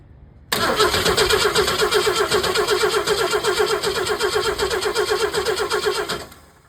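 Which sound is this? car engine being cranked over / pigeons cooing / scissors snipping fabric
car engine being cranked over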